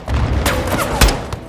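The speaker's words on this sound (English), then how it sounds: "They're launching grenades!" Grenade explosions and rapid gunfire in the Call of Duty Modern Warfare 2 video game merge into a dense, loud rumble of blasts and shots, with one heavier boom near the end.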